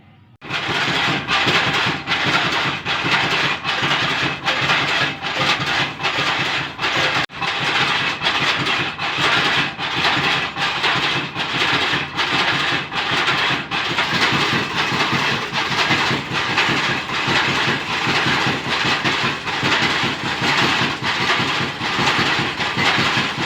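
A spice-grinding machine runs steadily, processing red chilli masala mixed with rock salt, producing a loud, continuous rumbling drone with a fast regular clatter throughout and no talk.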